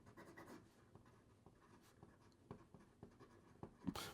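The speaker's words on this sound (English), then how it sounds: "Here we go with the writing sample for the Xezo" Xezo Maestro 925 mother-of-pearl fountain pen with a medium stainless steel nib scratching across paper in short strokes and taps, close and very quiet, with a louder rustle at the end.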